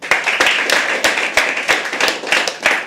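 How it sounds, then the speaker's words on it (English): Audience at a live poetry open mic at The Habitat claps in a steady patter of applause, sharp individual hand claps rising and falling close by for a few seconds. "Huge round of applause for Tanmay."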